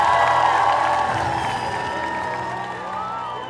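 A crowd at a kvadratas tournament final applauds and cheers in a dense, loud wash that slowly fades, with scattered shouts and whoops rising out of it.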